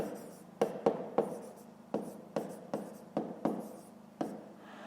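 Pen scratching across notebook paper while working a fifth-grade maths exercise by hand, about ten short, crisp strokes in an uneven rhythm, close and quiet.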